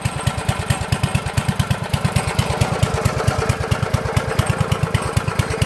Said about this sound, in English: here to do a little biogas engine update. Made a few carbureted changes.